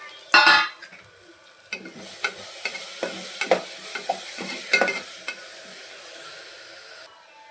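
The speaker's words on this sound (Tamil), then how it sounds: "மசாலாலாம் பச்சை வாசனை போகிற அளவுக்கு நல்லா வதக்கிக்கலாம்." Masala with coriander and mint leaves sizzles in a pan for a meal maker gravy while a spoon scrapes and stirs in repeated clattering strokes over a steady frying hiss, close and without talk.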